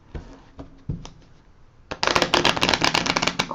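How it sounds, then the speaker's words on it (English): A deck of playing cards is riffle shuffled close up: a few soft taps and handling sounds, then a dense, crisp flutter of cards riffling together for the last second and a half. "I'm going to go ahead and do another rifle and shuffle on these"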